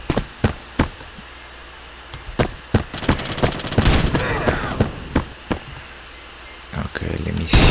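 Gunfire in the browser shooter Bullet Force, with sharp single shots at a steady beat, a rapid automatic burst in the middle, and someone talking over it.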